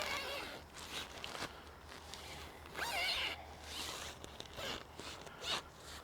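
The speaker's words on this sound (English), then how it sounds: "I'm going to close the zipper." Zipper drawn around a circular reflector disc in several close, rasping pulls with short pauses between them.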